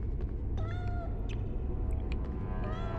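A cat in the video game Harry Potter and the Philosopher's Stone meows a few times, clear close mews repeating over a steady ambient game background.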